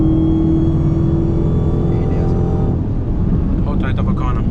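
A tuned Dodge SRT Hellcat engine drones loud and steady while driving, its revs holding high and then shifting, with voices talking over the engine noise.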